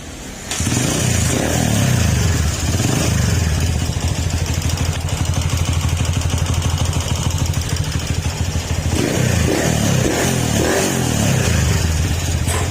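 A Honda TMX155 motorcycle engine, being tested after a backfiring and misfiring fault, runs close and loud after starting up, a steady chugging drone with rising revs near the end.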